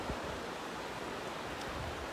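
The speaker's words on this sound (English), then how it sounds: "I'm sure you can hear these waves crashing and easing in" Waves crash and ease in along a shore as a steady, faint wash of broadband surf noise, without distinct breaks and with no voices.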